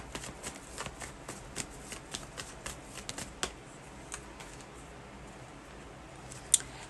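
Tarot cards are shuffled up close, a run of soft papery riffles and flicks in an uneven rhythm, quiet and alone without talk.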